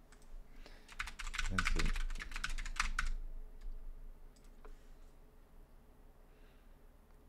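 Quick burst of typing on a computer keyboard, a close cluster of clicking keystrokes lasting about two seconds, then quiet room tone with a few stray taps. Someone speaks briefly.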